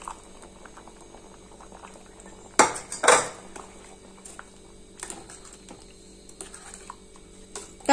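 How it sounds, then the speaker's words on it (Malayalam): A fork mashing lumps of curd, then the curd poured into a semi-ripe mango curry in a pot; quiet bubbling underneath, a couple of sharp clattering knocks of metal on the vessel, then soft splashing and stirring, close by. "ഇതുപോലെ ഒരു ഫോർക്ക് കൊണ്ട് നന്നായിട്ട് കട്ടയൊക്കെ ഉടച്ച ശേഷം അത് നമുക്ക് ഈ കറിയിലേക്ക് ഒഴിച്ചു കൊടുക്കാം"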